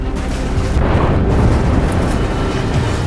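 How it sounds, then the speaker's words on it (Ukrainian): Deep, rumbling booms roll continuously, a heavy, distant low thunder of Grad rocket fire and explosions in Bakhmut, with no voices. "у Бахмуті, на жаль, ранок починається з градів."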